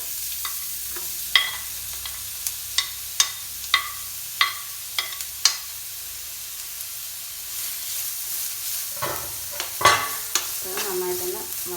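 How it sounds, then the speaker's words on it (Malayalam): Onions dropped into hot oil for an iftar snack, a soft hiss with a run of sharp, evenly spaced tapping clicks, then a louder burst of sizzling and scraping near the end. "എണ്ണ നന്നായിട്ട് ചൂടായിട്ടുണ്ട്. ഇനി നമ്മൾ എടുത്തു വെച്ച വലിയുള്ളി ഇതിലേക്ക് ഇടുക."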